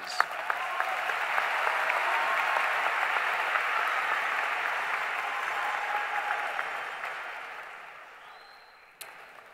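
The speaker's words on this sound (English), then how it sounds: "A round of applause again, please." Sustained audience applause at a high school graduation ceremony, a dense, loud wash of clapping from a large crowd that swells, holds, then tapers off near the end.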